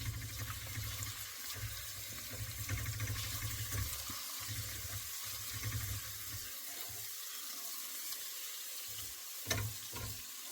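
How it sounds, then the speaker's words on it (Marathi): Mixed vegetables fry in a pan with paneer nearby, making a continuous close sizzle broken by occasional stirring scrapes, with no talking. "आणि हा आता फ्राय करायचा आहे चांगला"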